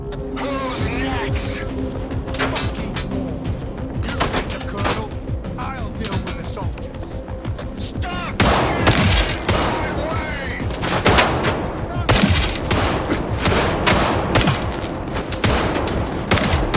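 Dense, rapid gunfire fills S.T.A.L.K.E.R. 2, sharp shots overlapping in continuous volleys that grow louder and more intense in the second half, with some voice mixed in.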